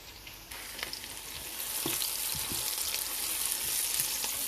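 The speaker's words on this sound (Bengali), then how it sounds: "পেঁয়াজটা ভেজে নিতেছি।" Oil sizzles and crackles steadily as onions fry, growing louder over a few seconds, with light stirring clicks and no talking.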